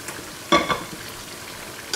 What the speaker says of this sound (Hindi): तो ये देखें तड़का हमने डाल दिया